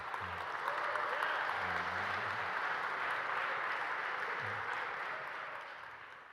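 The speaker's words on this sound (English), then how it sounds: "Please, everyone, give them a round of applause." A panel audience gives a round of applause at a Web3 discussion, a steady, distant wash of clapping that holds evenly and fades slightly at the end, with a faint voice murmuring underneath.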